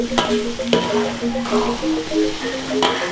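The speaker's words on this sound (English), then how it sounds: "I cook the garlic until it's slightly golden brown" Garlic frying in a pan until golden for a smoked skipjack tuna sambal, a soft steady sizzle broken by a few sharp scraping stirs, heard up close.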